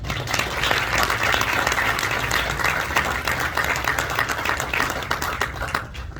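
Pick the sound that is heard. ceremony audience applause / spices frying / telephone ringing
ceremony audience applause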